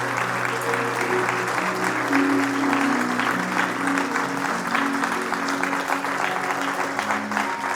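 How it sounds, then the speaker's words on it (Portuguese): A church congregation at a worship service applauding, a steady sustained round of clapping from many hands with some voices mixed in, continuing for several seconds. "Dê uma salva de palmas a Jesus."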